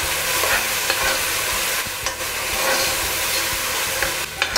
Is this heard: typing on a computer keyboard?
no